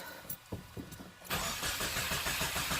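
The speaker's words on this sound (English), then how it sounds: "Give it a few cranks." A 2015-or-later Subaru WRX engine being cranked, with short rhythmic starter turns close by before the engine catches and runs loud and steady.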